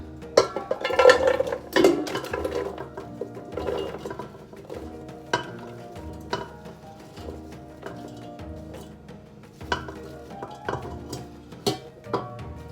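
Chopped onions tipped into a pot to start a chili, a cluster of clattering, rustling drops at first, followed by scattered sharp clinks of a utensil against the pot.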